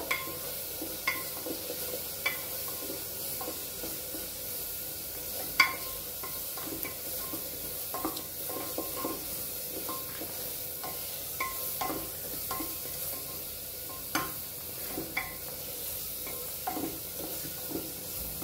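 A spice masala of red chili powder sautés in hot oil for a drumstick and potato curry, a continuous low sizzle broken by frequent scraping and tapping strokes of a spoon against the pan, close and steady with no talking.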